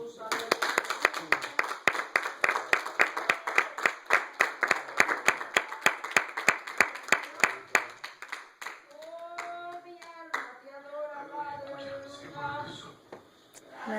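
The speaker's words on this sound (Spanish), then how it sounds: "Dar un aplauso al Señor" Rhythmic, steady clapping in a church congregation during a testimony service, loud and even for about eight seconds, then giving way to voices speaking and singing.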